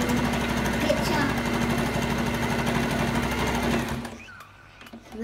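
Sewing machine stitching bunting fabric, a steady rapid mechanical whirr of needle strokes running loud and close for about four seconds before stopping abruptly, leaving a quiet room.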